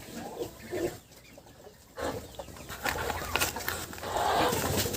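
Broody hens clucking softly in short, irregular bursts close by while settling onto guinea fowl eggs, with rustling and shuffling movement in between; no voices.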